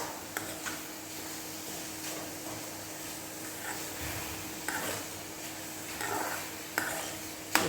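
Vegetables stirred in a pan while wilting for a vegetable chutney, a steady soft sizzle broken by repeated spoon scrapes and clinks against the pan, no speech.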